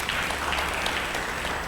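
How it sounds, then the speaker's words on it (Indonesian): A church congregation in Indonesia claps in worship, producing a dense, steady wall of applause that stays loud and even throughout without any speech. "tepuk tangan untuk Tuhan."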